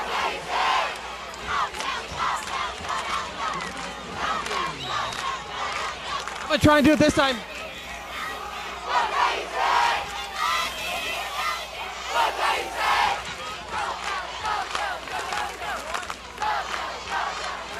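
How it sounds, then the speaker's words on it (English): A crowd in the stands at a high school football game chanting the Dowling cheer in loud rhythmic shouted bursts, with a brief sharp clatter midway and someone talking nearby. "That's the Dowling cheer"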